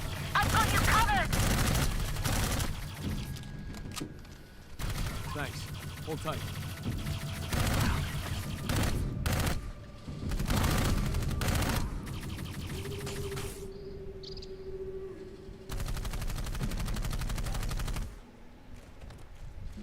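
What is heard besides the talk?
gunfire in a video game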